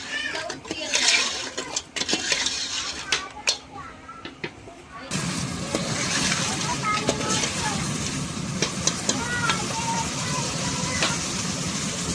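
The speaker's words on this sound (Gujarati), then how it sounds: "હવે આપણે શાક મૂકીને તેલમાં પકાવવાનું છે." Crab curry hits hot oil in a pan and a dense, loud sizzle starts partway through, following a quieter stretch with sharp clinks and a voice.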